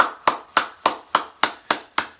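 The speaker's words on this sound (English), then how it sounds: "BET, let me applaud y'all." One person claps hands eight times in a steady, even rhythm. Each clap is sharp, close and clear, with nothing else heard.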